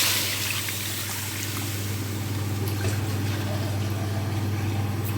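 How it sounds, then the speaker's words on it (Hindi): Water poured into a pan of kofta masala, a steady low trickling and bubbling over a continuous hum, no voices. "दो गिलास हम इसमें पानी ऐड करेंगे।"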